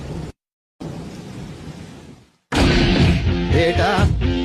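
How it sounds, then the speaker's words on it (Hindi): Heavy rain with a rumble of thunder in a roadside night scene where a car has broken down, a steady loud wash of noise that cuts out briefly and then swells into a dense, booming roar. "बारिश भी बहुत हो रही है"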